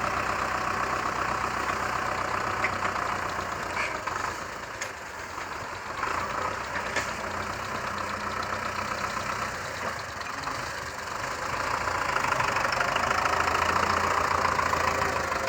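A Belarus 510 tractor engine idles steadily throughout, a continuous mid-pitched mechanical drone with a faint knocking texture and no talk over it.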